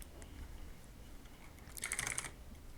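Short burst of computer keyboard typing, a quick cluster of light key clicks near the end of a quiet moment, close and faint, with no talking.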